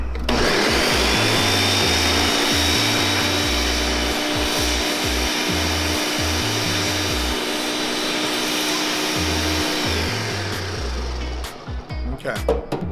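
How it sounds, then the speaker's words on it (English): Blender whirring through a salsa with cilantro, a loud steady motor drone that runs for about ten seconds with some rattling, then cuts out near the end. "bring it back to the blender,"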